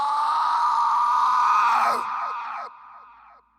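An inhuman, piercing shriek from a horror audio drama, rising from below a well: a loud, sustained high wail that bends and wavers, then breaks into falling cries and fades into silence.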